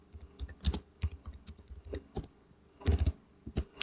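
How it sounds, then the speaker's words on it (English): Keys tapped on a computer keyboard as text is typed, a quick irregular run of light clicks close by with a short pause partway through. "you can type your text here"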